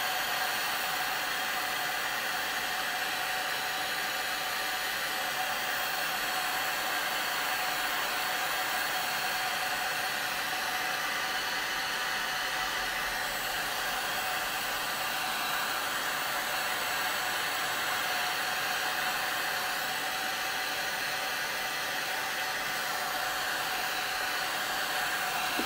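A heat gun blasts hot air onto the printed words of a metal sign on a metal container, giving a constant, even rushing hiss that holds unchanged from start to finish with no voices.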